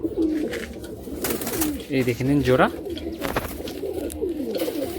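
Malwai and Madrasi pigeons at a loft sale in Budge Budge coo in soft, rolling bursts close by, mixed with fluttering and someone talking over them.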